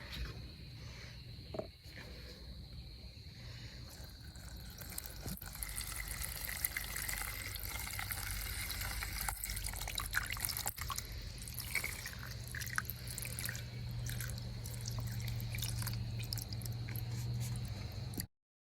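Steady acetone pouring and trickling into a container of water, a continuous close wet splashing with a few small drips, no voices.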